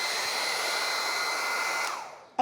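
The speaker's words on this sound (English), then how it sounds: "I'm going to use the hairdryer where I'm cutting" Hair dryer blowing steadily on a sheet of beeswax before cutting, a continuous loud whoosh alone that cuts off near the end.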